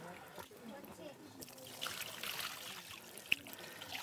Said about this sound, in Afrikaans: Gooi maar water.